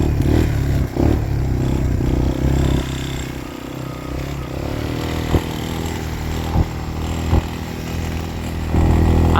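Suzuki LTZ 250 ATV ridden through woods at night, its engine droning steadily and loud up close, with clattering and scraping over rough ground and a few sharp knocks.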